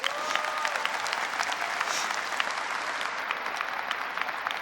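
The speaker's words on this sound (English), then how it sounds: "Give yourselves a round of applause." A graduation crowd applauds with sustained, even clapping that fills the hall, a broad wash of many hands with a few sharper claps and faint cheers standing out.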